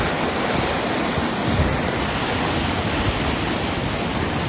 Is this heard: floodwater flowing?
yes